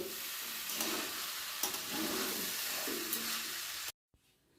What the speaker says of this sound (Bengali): এবারে চাল আর ডালটাকে এইভাবে নেড়ে নেড়ে একটু ভাজা ভাজা করে নিতে হবে